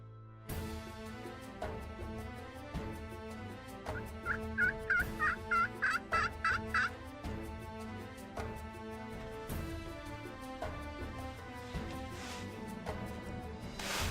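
A wild turkey gobbles in a rapid rattling burst midway through, set against a steady backdrop of layered birdsong outdoors.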